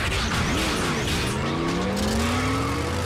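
Animated Transformers robots in vehicle form rev their engines and tear away, with rising engine whines, squealing tyres and skidding in a loud, continuous burst, no voices.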